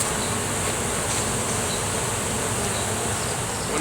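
Honey bees from a big hive that fell to the ground with its tree branch swarm in a dense, steady buzz. The buzz is close and continuous throughout, with no voices.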